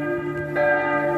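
Church bell in Marienplatz, Munich, rings loud and close, with a sustained ringing tone and a fresh strike about midway that swells the sound.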